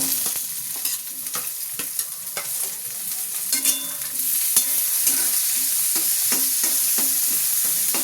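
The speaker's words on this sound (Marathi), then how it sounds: "पाच मिनिटं बटाटे परतून घेते" Potatoes with onion and chilli are stir-fried with a steady sizzle. A spatula scrapes and taps against the pan at an uneven rhythm, and the frying grows slightly louder partway through.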